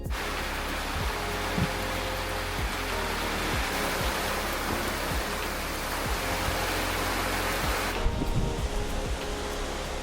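Pouring rain on a remote island at Misool, Indonesia: a loud, dense, steady hiss that runs unbroken throughout, with scattered low thumps beneath and no talk.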